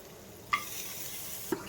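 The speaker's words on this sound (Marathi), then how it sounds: "आता हे गरम झालं, याच्यात टाकते हा चॉप केलेला गार्लिक." Chopped garlic dropped into hot butter and a little olive oil starts sizzling in short bursts, with a sharp hiss at the first drop and another near the end, fairly quiet and close.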